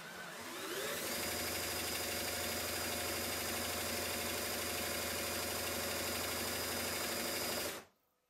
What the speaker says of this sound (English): Once I connect my electric drill, I start off slowly, rotating the crankshaft,